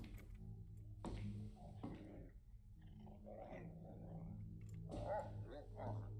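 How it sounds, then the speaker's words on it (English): A dog in the indie horror game Wrong Floor gives a few low growling barks and whimpers, heard as short separate bursts at moderate distance over a dark ambient background. "It would seem they have a dog in there."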